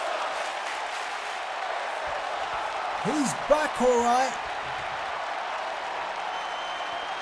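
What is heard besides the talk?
crowd cheering in WWE 2K19 video game arena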